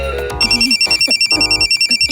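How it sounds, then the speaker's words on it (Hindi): A phone rings with a repeating electronic ringtone, a steady pulsing tone that is loud and close. "तेरा फोन बज रहा है।"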